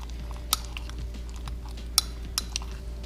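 Egg, cheese, poultry seasoning and sage are mixed in a bowl, with a quiet spoon or fork scraping and a few sharp clinks against the bowl.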